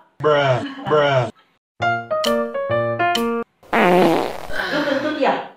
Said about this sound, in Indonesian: Lu kentut ya? Ya,